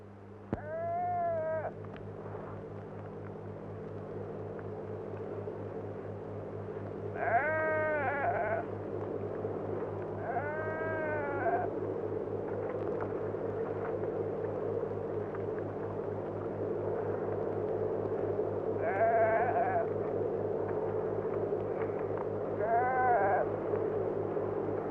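Sheep in a Bedouin flock in Kuwait bleat in several separate wavering calls spread over the stretch, set against a steady low hum and faint background noise.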